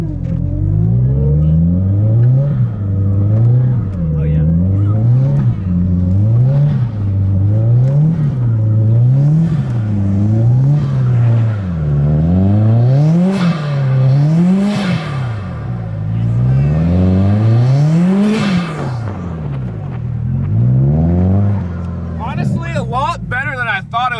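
A Subaru STI engine revs repeatedly in the snow, its pitch rising and falling in a steady rhythm of climbs toward high RPM, loud and close, with people talking over it.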